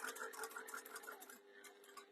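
A sewing machine stitches a fabric jewellery pouch with a quiet, rapid run of mechanical ticking that slows and tapers off near the end, heard close and faint with no voices.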